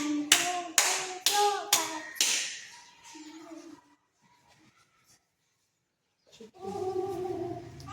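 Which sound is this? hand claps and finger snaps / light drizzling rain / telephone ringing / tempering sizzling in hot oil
hand claps and finger snaps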